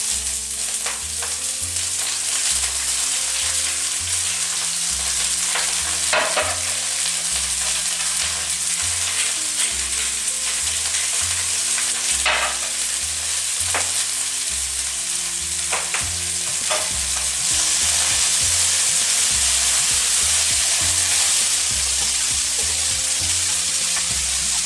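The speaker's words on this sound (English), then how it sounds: "now we'll be just baking it in some hot olive oil, and we'll be seasoning it with pepper and celery salt" Bok choy fries in hot olive oil with pepper and celery salt, giving a steady, close sizzle and crackle, with occasional sharper pops and clicks of stirring against the pan and no talk.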